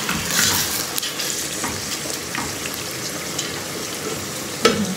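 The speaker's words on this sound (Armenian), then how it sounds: "Եվ թողնում եմ այդպես տապակվի յուղի մեջ։" Mushrooms frying in oil in a pan give a continuous close sizzle with soft stirring scrapes, ending with a sharp clack near the end and no talking.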